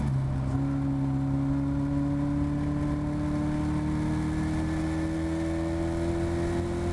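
A Caterham race car's engine drones steadily and close at Cadwell Park, its tone climbing gradually as it pulls out of a right-hand corner, with no voices over the constant mechanical whine.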